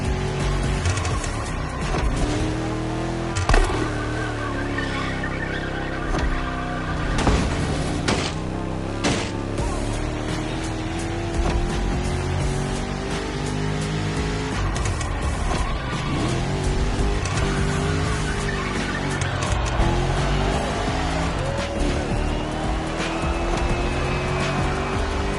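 Muscle cars racing in The Crew Motorfest along Detroit's Woodward Avenue: loud, continuous engine roar with rising and falling revs through gear changes, occasional tire squeal, under a dense game soundtrack.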